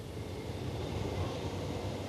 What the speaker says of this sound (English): A test track where trains can be put through their paces